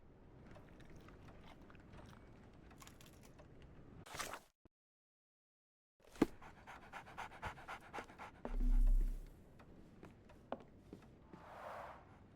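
Dog panting in the Sherlock Holmes: The Awakened remake game, a rapid rhythmic breathing heard close up against ambient game background, broken by a short silent gap and a low thud.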